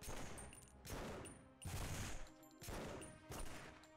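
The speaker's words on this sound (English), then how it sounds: "let's get the machine pistols now" Machine pistol gunfire in The Punisher video game, four loud bursts of rapid automatic fire separated by short pauses, with no voices.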